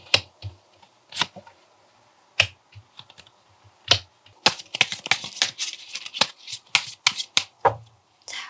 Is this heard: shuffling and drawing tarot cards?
yes